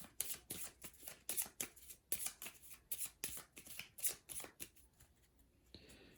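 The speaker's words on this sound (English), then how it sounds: "And now here, we shuffle up this discard pile." A discard pile of cards from the Legendary Buffy the Vampire Slayer card game is riffled and bridged repeatedly, crisp rapid fluttering bursts in a steady rhythm, close and clear with no talking.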